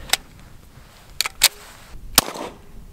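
Suppressed 9mm pistol firing 147 grain ammunition through a modular silencer, four sharp muffled cracks spaced unevenly over a few seconds, close and fairly loud against a quiet background.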